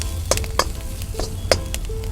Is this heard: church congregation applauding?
no